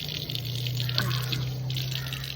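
Water gushes steadily from a hose fed by a motor pump drawing from a well, a continuous close, even rush with a low mechanical hum beneath it.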